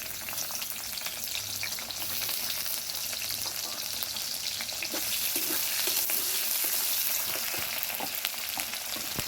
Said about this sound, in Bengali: তার জন্য পেঁয়াজ মরিচ দিয়ে দিচ্ছি।